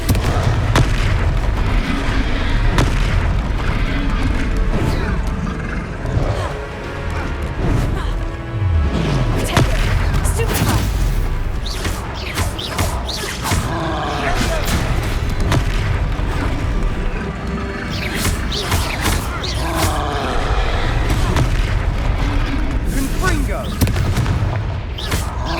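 Repeated Confringo blasting-spell explosions from the game Hogwarts Legacy boom and thud throughout, loud and dense, mixed with game voices and combat noise.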